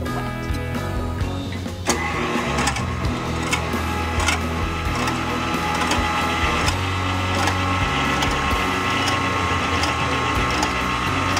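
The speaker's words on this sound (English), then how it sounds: "take your dry mixture and gruelingly add it by hand to the wet" Dry ingredients are worked by hand into wet cake batter for cupcakes, giving a dense, continuous scraping and clattering of utensil against bowl with rapid irregular clicks, close and steady throughout.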